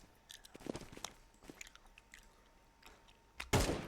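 Someone close by crunches and chews food in irregular crisp bites, then one louder crunch near the end, with no speech.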